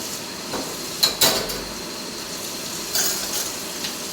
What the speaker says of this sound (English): I'm going to quickly wash the knife and the spoon now